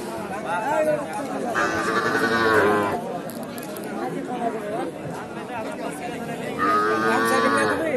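Cattle at Satihat market in Naogaon, with bulls and calves giving two long, loud moos amid a constant murmur of crowd chatter and nearby talk.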